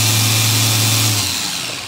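Yikong RC scale crawler motor spinning in high-speed gear, a close, loud steady electric whine that stops after about a second, leaving a fading mechanical hum.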